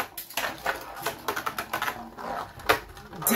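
Hasbro Beyblade Royal Genesis Hypersphere top battling Ogre in a stadium, a dense run of rapid clicking, rattling impacts with a sharp clash near the end, close and fairly loud with no talking.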